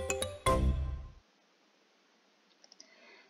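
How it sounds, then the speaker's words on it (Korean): Short mobile phone ringtone of an incoming call on a bus, a quick chiming melody lasting about a second before fading to near silence, with a few faint beeps afterward. "버스에서 여러분에게 전화가 왔습니다."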